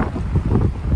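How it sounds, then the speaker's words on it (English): Strong wind buffets the microphone in a gusty backyard during spring hydrangea pruning, a low, rumbling roar that swells and dips continuously throughout. "Still really windy"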